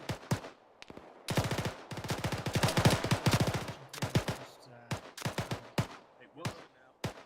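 Machine gun fire in infantry combat: loud bursts of automatic fire with dense rapid shots, broken by separate single cracks and pauses, with faint voices in the background.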